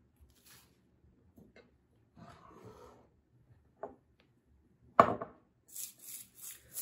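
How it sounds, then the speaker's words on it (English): A couple of tablespoons of dried green tea leaves (Camellia sinensis) are tossed into a tea bag: quiet, close-up papery rustles and one crisp, crinkly burst, with no talking. "So toss a couple tablespoons of that into our bag here."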